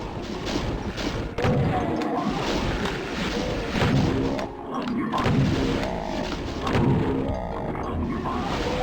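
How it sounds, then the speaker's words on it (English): Super shotgun blasts from a Doom 2 WAD, several heavy booming shots spaced a second or two apart amid dense game noise and music, loud and close. "Now you got the super shotgun."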